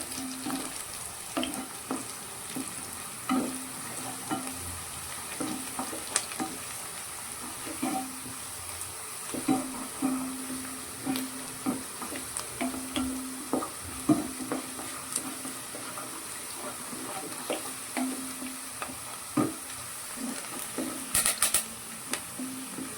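Garlic and curry leaves frying in oil in a pan for tomato gojju, a steady close sizzle broken by frequent scraping taps of a spoon stirring the pan, with no voices.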